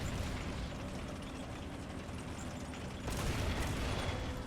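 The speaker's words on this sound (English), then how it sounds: "Oh, look at that beautiful, beautiful explosion." Battle noise from the WWII strategy game Men of War, Normandy assault: a dense, sustained wash of gunfire and blast rumble, swelling louder into a heavier explosion burst near the end, with no talk.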